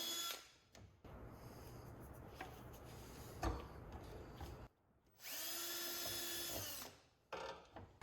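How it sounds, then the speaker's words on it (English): Power drill boring a hole in a Jeep Gladiator diesel pickup, whirring loud and close in several sustained bursts with short pauses between them, no talking. "Now that we have that hole drilled"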